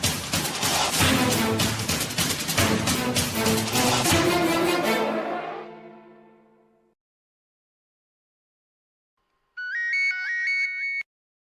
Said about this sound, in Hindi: आप फोन क्यों नहीं उठा रहे हैं?